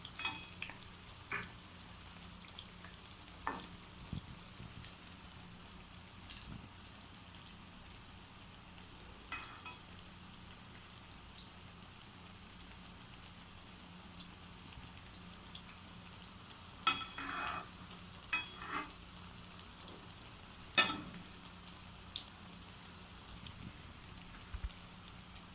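Balushahi pastries cooking slowly in hot oil, a soft steady bubbling sizzle with occasional small pops and clicks, left alone without stirring, no talk.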